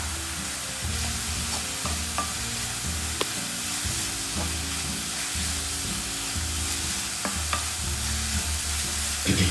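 Ginger and garlic paste sauté in a pan with steady close sizzling, broken by repeated scrape-and-stir strokes of a spoon, for an egg chukka dish.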